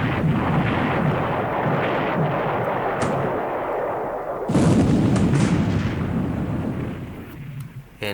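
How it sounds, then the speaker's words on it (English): Naval gunfire in the video game War in the Pacific, a 16-inch battleship shell landing on a light cruiser amid 6-inch hits, a steady rumbling barrage with a heavy blast around the midpoint and sharp bursts after, no talk. "But at least I land one more 16-inch hit on a light cruiser."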